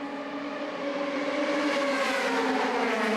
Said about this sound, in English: And there is the Red Bull car.